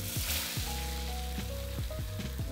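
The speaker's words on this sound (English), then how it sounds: "I'm gonna push everything over to the side and add in my egg." Egg sizzling in a hot pan beside steamed broccolini for Thai street food, a constant crackling fry with low thumps and clanks of a utensil moving food in the pan.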